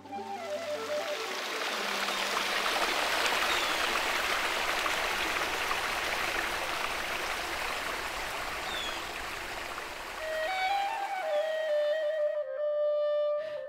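The Egypt River, a groundwater-fed stream, flows with a steady close rushing and trickling wash, and a brief tonal sound rises near the end.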